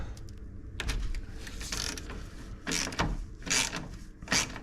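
A ratchet wrench works loose the 10mm bolts on a car's radiator mounting tabs, giving sharp, irregular clicking bursts with short pauses between them, heard close up with no talking.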